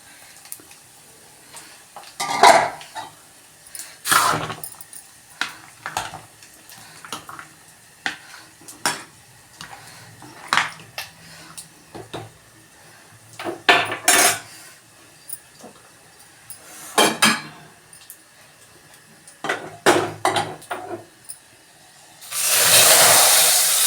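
Metal utensils clink and scrape against a pan of frying tempering in repeated bursts, with stirring sounds, then a loud steady sizzle near the end as cooked toor dal is poured into the hot oil.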